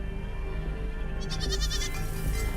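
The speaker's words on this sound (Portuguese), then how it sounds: "Eu mandei meu marido olhar as cabras porque estavam gemendo." Goats bleat in a pen, a wavering, quavering cry that rises partway through over a constant low hum and background noise, moderately loud with no talk.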